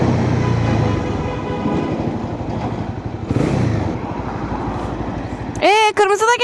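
A car engine revs hard and roars as it accelerates nearby, heavy road and traffic noise throughout, with a sharp rising whine near the end.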